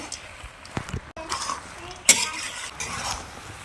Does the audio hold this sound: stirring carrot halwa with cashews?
yes